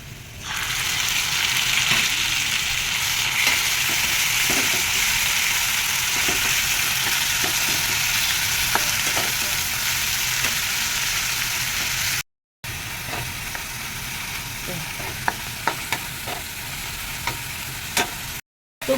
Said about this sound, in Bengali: এই পেঁয়াজ কুচি আমি লাল লাল করে ভেজে নেব।